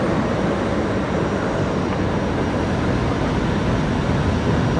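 Airbus A330 jet engines at full takeoff power at Brisbane Airport, a loud, steady, continuous roar with no voices over it.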